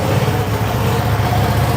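A V2 sport motorcycle engine rumbles loudly and steadily right up close on a cold start, a deep throbbing idle with no voices.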